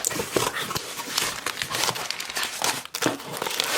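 Paper or bubble wrap crinkles and crumples steadily at close range as a heavily wrapped new mug is unwrapped by hand, with dense rustling bursts throughout and no talk.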